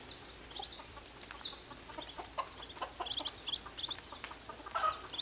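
A chicken clucks on a homestead in short, scattered bursts, fairly close but soft, against a quiet outdoor background.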